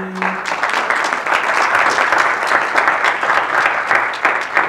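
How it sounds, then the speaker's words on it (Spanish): An audience at a health-system conference day claps together in a full, even round of applause that carries on strongly for several seconds. "Un aplauso entonces para los presentes."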